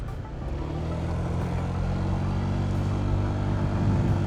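A Honda PCX125 scooter rides along a road, its engine giving a steady, fairly loud low drone with a gently rising pitch, mixed with wind and road noise and no talk.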